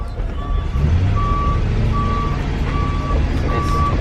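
An overlanding vehicle loaded with heavy weight backs up on a narrow Guatemalan road, its reversing alarm giving steady, evenly spaced loud beeps over a low engine rumble.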